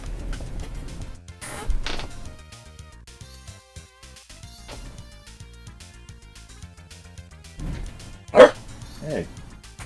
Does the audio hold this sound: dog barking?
yes